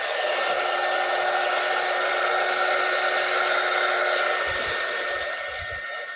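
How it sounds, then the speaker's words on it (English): A hair dryer or craft dryer blows steadily over decoupage napkins, a loud continuous whoosh with a faint whine, easing slightly at the end. "you want to hit her with the hair or the craft dryer again?"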